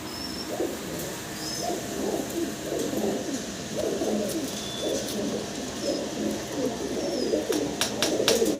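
A pair of fancy pigeons coo in low, repeated rolling phrases close by, nearly continuous, with a few faint higher chirps above.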